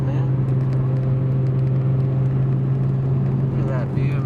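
A Nissan R32 GT-R with an RB26DET engine drones steadily and loudly from inside the cabin, a continuous deep hum with no clear flutter bursts.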